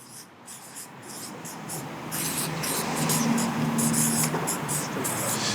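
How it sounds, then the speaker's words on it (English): Pens scratching on paper as several people write at once, a dense, continuous scribbling rustle that grows fuller and louder partway through, with faint room noise and no clear talking. "I want everybody to write that down"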